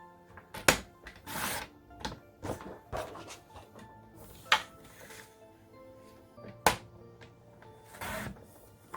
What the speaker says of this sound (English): I'm going to cut this down to measure 4 by 4.